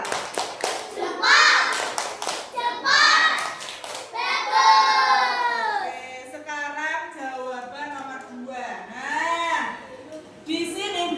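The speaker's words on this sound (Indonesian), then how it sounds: "Kita beri tepuk jempol dulu ya buat kelompok 5." Fourth-grade pupils in an Indonesian religious education class give a rhythmic group clap and chant for a classmates' group, a few sharp claps at the start followed by loud children's voices chanting together.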